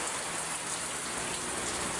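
Heavy rain pours steadily in a dense, constant hiss with no pauses, close and fairly loud, with no voices over it.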